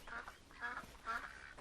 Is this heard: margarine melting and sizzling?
no